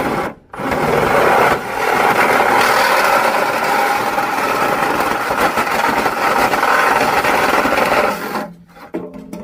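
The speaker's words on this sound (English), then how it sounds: "He's going to use a Sawzall, and we're just going to make this quick." A Sawzall reciprocating saw cuts through a downspout pipe in one loud, sustained buzzing run of about eight seconds, starting and stopping abruptly, with no speech.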